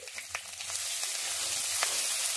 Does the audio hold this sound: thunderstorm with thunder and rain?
no